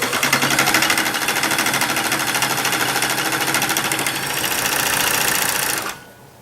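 A serger stitches fleece for a mermaid blanket, a loud rapid mechanical whirring and ticking running continuously, briefly shifting pace partway through before stopping abruptly.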